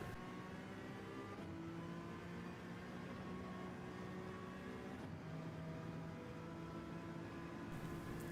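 A race car pulls hard out of a right-hand corner and accelerates downhill, its engine note loud, close and continuous with steady harmonic tones that shift as the revs climb and change through the gears.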